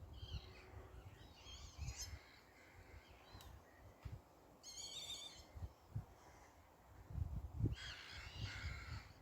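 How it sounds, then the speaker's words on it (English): A herring gull calls in short bursts of harsh, nasal cries while circling over a lake near a gull and tern colony, the calls coming in separate clusters over faint outdoor background noise. "Herring gull circling over the lake"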